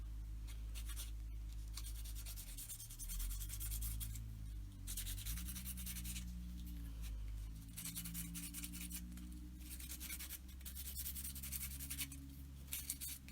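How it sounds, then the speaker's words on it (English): Paint being scraped off a tissue jar lid to give it a rustic look, a steady, close rubbing and scratching that runs continuously in bursts, alone with no talk over it. "So I'm just going around scraping that off just a little bit, making it look a little bit more rusticy."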